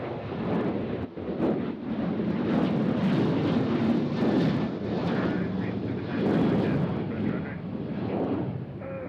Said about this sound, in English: This is Alaska Airlines coming in from Portland.